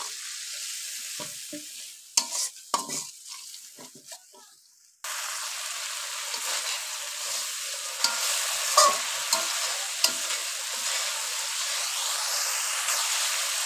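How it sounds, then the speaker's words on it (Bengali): Spice masala for a rui fish and maan kochu (taro) curry is stirred in a pan, first with a few faint scrapes. After a splash of water it breaks into a loud, continuous sizzle with occasional stirring strokes. "মশলাটা একটু কষিয়ে নিই।"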